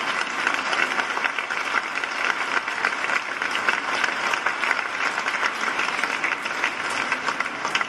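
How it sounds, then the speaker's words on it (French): A congregation at a Catholic Mass for the Assumption applauds a visiting priest from Perpignan, a steady, dense round of clapping from many people in a church that holds level throughout. "Applaudissez-le aussi, parce que c'est loin Perpignan."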